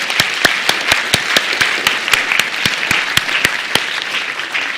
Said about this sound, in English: let's give our electrons a round of applause